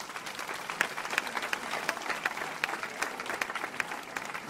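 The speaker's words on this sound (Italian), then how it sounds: "e magari anche il vostro applauso, grazie" An audience at an evening music event in Rapallo applauds, a fairly faint, distant patter of many hands clapping with a few sharper individual claps standing out.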